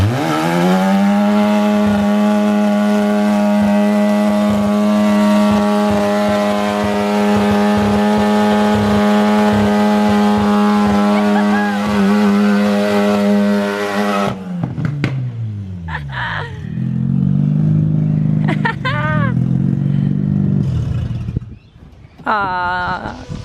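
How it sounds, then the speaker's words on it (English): A rotary-engined BMW E36 ute on its first drive, holding a loud, buzzing high-rev drone at the limiter, then dropping and surging through sharp revs and gear changes, close and dominant. "We managed to drive the rotary E36 Ute for the first time"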